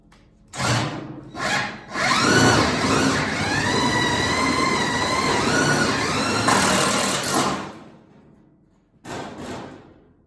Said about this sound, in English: I'm going to throw some Tech screws in that